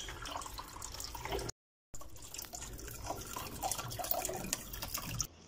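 Water from a pipe pours steadily into a jug, a continuous splashing, trickling stream heard close, with a brief drop-out near the start before the flow resumes until the jug is full.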